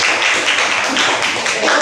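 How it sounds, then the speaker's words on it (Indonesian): Brief burst of applause from a classroom audience at a science lesson, dense and steady clapping lasting under two seconds with no voices over it. "Beri tepuk tangan untuk semuanya"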